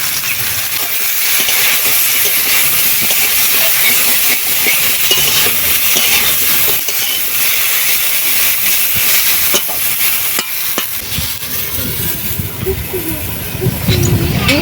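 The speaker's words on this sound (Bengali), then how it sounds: "মাছ ভাজার তেল কিছুটা রয়ে গেছে ওই তেলেই দিয়ে দেবো ঢেঁড়স এবং আলু" Okra and potatoes hit leftover fish-frying oil with a loud, continuous hissing sizzle close by, steady for most of the stretch, with a muffled voice briefly audible toward the end.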